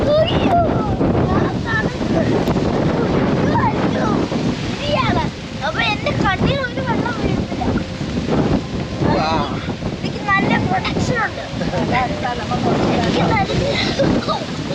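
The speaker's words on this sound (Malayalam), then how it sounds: "നല്ല കാറ്റും നല്ല മഴയുണ്ട്." Strong wind roars steadily over the microphone with a constant rushing wash of heavy rain at a lakeside resort in Alleppey, while voices talk over it throughout.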